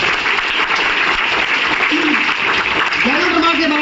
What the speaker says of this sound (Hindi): जोरदार तालियां अपने।